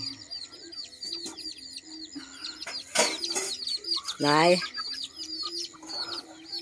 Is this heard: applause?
no